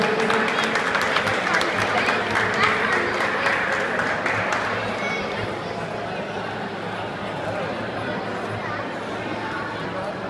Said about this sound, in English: round of applause, for both of